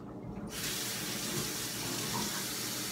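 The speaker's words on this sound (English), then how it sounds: "so just rinse it off" Tap water runs steadily into a sink as a sticky homemade food item is rinsed off, a close, constant splashing stream that starts abruptly after a brief quiet moment.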